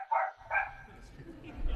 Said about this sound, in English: Notwithstanding some barking in the background